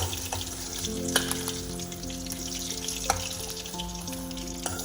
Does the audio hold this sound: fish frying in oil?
yes